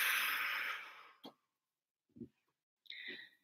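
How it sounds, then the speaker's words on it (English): A long, deep breath out during a guided breathing exercise, loud at first and fading away over about a second, followed by a short quiet breath and a sharper sigh-like exhale near the end. "Deep breathe out."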